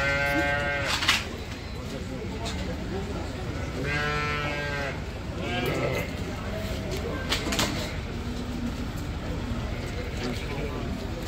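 Sheep bleat repeatedly at a livestock market in Taraz, Kazakhstan, where sheep with lambs and goats are sold; several wavering cries rise over steady crowd chatter and people talking nearby.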